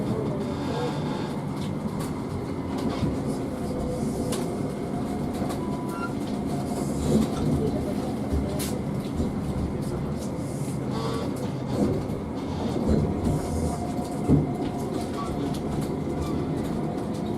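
Birmingham Metro tram running toward Wolverhampton St George's, heard from on board as a steady low rumble with occasional soft clicks and thumps over the rails, continuous and moderately loud throughout.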